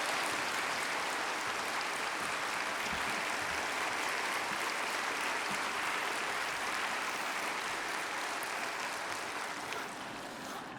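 A congregation applauds during a Sunday worship service at a Korean church, a steady, dense wash of clapping filling the room for about eleven seconds with no talking over it.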